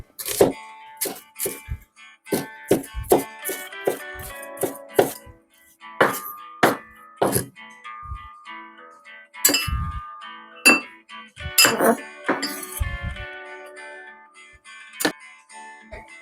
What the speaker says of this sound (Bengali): প্রথমে পেঁয়াজটাকে এভাবে কুচিয়ে নিচ্ছি।